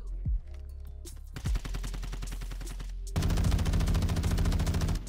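Rapid automatic gunfire in Warzone 2 on Ashika Island, a few isolated shots at first, then sustained loud bursts and a dense continuous volley near the end.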